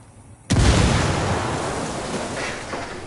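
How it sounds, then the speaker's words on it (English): Grenade explosion in the video game Ghost Recon Wildlands bursts suddenly after a quiet moment, a loud close blast that rolls into a long, rumbling roar, slowly fading like surf. "Tenemos una explosión."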